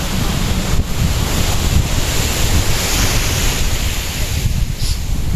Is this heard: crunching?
no